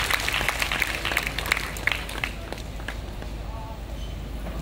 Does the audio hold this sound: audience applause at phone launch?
yes